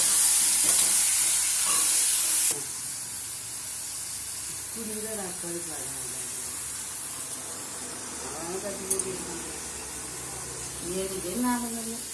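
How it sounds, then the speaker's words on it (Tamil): Chicken sautés in a pan for chicken kulambu, a steady close sizzle and hiss running under someone talking. "சிக்கன்லாம் போட்டாச்சு. இப்போ அதை நல்லா வதக்கி விட்றாங்க."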